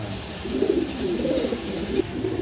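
Racer pigeons coo nearby in a steady, low, throaty murmur that continues throughout with gentle rising and falling bursts.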